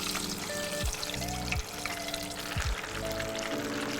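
Potato pieces lowered spoonful by spoonful into frying oil at about 130 to 135 °C, giving a steady close sizzle and bubbling with a few louder surges as each batch goes in.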